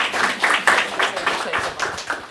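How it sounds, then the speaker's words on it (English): An audience applauds at a career day event, a steady patter of many hands clapping close by, with a few louder individual claps standing out and no voices. "And we can just applaud."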